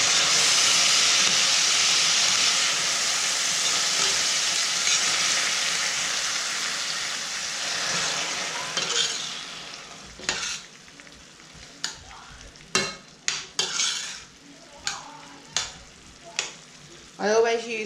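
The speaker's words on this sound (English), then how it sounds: "I'm going to add a little bit of boiling water just to stop it from sticking to the pan" A loud, rushing hiss as boiling water hits hot frying onions, fading gradually, followed by a series of scraping stirs against the pan.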